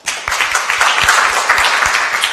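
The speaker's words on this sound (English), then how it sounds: "Give him a round of applause." Close, loud round of clapping from an audience at the sTARTUp 2014 entrepreneurship event in Tartu, with individual sharp claps standing out in a brisk, uneven burst.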